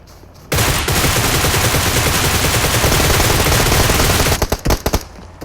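Loud, close automatic weapon fire in the video game PUBG, one sustained rapid burst lasting several seconds, followed by a few separate shots and then quiet.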